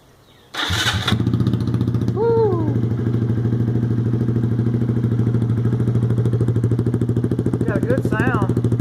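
Honda Grom motorcycle with an unbaffled titanium exhaust starts up, then idles loud and steady with a deep, rapid burble, giving a couple of short blips of the throttle, close up.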